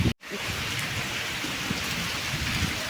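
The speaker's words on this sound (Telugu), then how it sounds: "మీ దగ్గర కూడా వర్షం పడుతుందా?" Steady rain pours down outdoors among green trees under heavy clouds, a dense, even hiss that stays loud and constant after a brief silent gap at the start.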